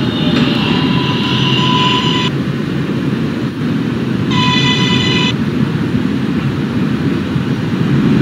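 A New York subway Q express train stands at a station amid a loud, constant rumble of cars and platform noise, with two bursts of bright electronic door chime tones sounding over it.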